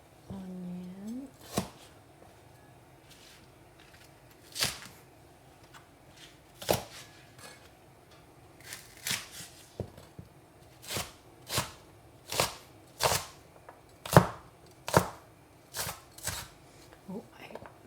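Onion and ginger are chopped on a board, with sharp knife thuds that start sparse and then settle into a quicker, regular rhythm. A person speaks briefly at the start.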